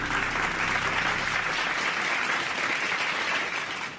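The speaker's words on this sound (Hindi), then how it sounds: "चारों टीम्स के लिए एक बार और तालियां यार" Studio audience on a Hindi game show clapping for the four competing teams, continuous loud applause that holds steady and tapers slightly at the end, with no talking over it.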